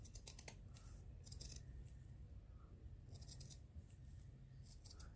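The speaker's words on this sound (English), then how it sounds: "Yeah, so just going to cut this piece off." Scissors cut through a piece of mixed-media material for an art journal cover, making soft, close snips in a few small clusters over a low room hum, with no voices.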